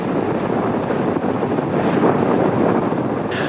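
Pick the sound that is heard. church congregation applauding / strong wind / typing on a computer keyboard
strong wind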